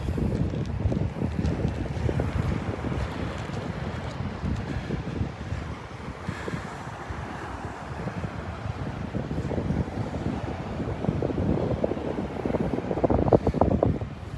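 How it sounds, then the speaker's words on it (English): Steady breezy wind buffets the microphone on a Gulf beach at Delnor-Wiggins, a continuous low roar and rumble that swells and eases, loudest near the end, with no talking. "Breezy up here. Breezy but beautiful."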